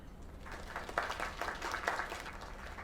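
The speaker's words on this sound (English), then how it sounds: "Another round of applause." Applause in the video game LAKE, a faint, short burst of scattered clapping from a small group, slightly muffled and distant.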